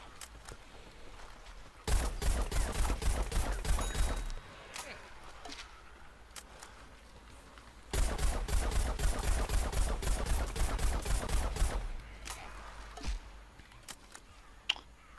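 Rapid gunfire bursts from a Plants vs Zombies Garden Warfare match, two long loud volleys of quick repeated shots separated by quieter gaps, with scattered single shots after.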